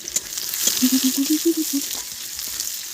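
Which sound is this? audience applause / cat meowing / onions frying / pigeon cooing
onions frying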